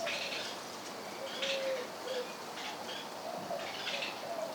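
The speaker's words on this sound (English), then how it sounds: "I can hear the birds around me and the breeze." Faint birds call and coo intermittently in the distance over a soft, steady outdoor hush.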